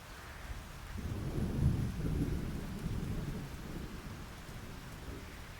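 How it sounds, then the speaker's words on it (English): Rain and thunder in the farming video game Fields of Mistria: a low, rolling thunder rumble swells over a steady hiss of rainfall, with no talk. "It's raining."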